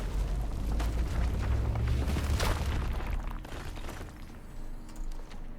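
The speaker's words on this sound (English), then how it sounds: "That rock explosion was not quite as effective as I hoped" Rock blasting apart in the RuneScape: Dragonwilds game, a deep boom with a sharp crack at its peak, followed by rumbling debris that fades into quieter ambience.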